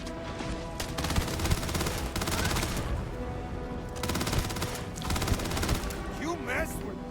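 Bursts of rapid gunfire from enemies fill a firefight in the video game Starfield, with dense volleys repeating in waves over several seconds and a few softer gaps between them.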